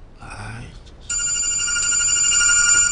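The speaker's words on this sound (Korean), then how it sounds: "이 시간에 왜 전화야?" A telephone bell rings steadily and loudly, starting after a brief quiet moment and continuing to the end with no voices over it.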